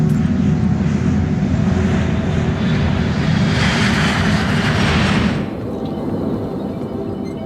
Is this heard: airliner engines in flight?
yes